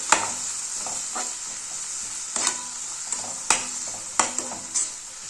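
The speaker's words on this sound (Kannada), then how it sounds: "ಈಗ ಇದನ್ನು ಫ್ರೈ ಮಾಡ್ಕೊಳ್ಳೋಣ, ಅಂದ್ರೆ ಬೇಗ ಟೊಮೆಟೊ ಸಾಫ್ಟ್ ಆಗ್ತೈತಿ" Tomatoes with turmeric and salt fry in a pan for a soya palya, giving a steady close sizzle broken by several sharp spatula scrapes and clinks as they are stirred.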